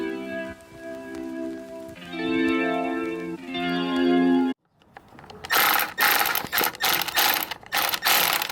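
A bolt is fastened during a BMW M4 rebuild: steady mechanical whirring from a power tool runs for a few seconds, then a brief pause, then a burst of sharp rapid ratcheting clicks, all close and with no talking.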